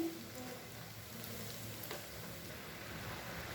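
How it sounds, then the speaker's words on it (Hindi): Snacks frying in hot oil over a medium flame, a steady soft sizzle and crackle, close and fairly quiet, with no talking. "मीडियम फ्लेम पर हम इन्हें फ्राई करेंगे"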